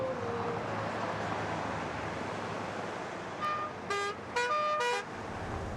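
A classic American car riding through Cuba, a quiet steady engine and road hum with several short horn toots clustered near the end, heard at a distance rather than close.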